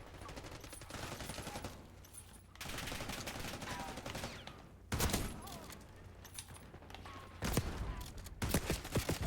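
Gunfire in Call of Duty Black Ops 6 gameplay: bursts of rapid shots and loud individual blasts, with a heavy volley near the start and sharp cracks near the end.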